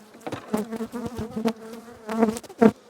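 Honeybees hum around an opened hive during an early spring inspection, their buzzing rising and falling in close, uneven swells as individual bees fly near and away.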